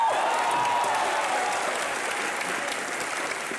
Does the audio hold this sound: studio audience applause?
yes